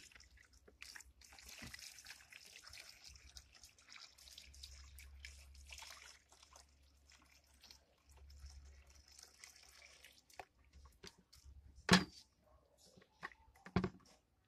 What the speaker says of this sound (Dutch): En dat ga ik nu schenken in mijn bak.